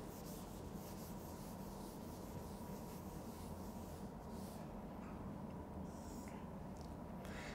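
Steady rubbing of a board to erase writing during a physics lecture, a faint, continuous scrubbing hiss with no pauses and no speech.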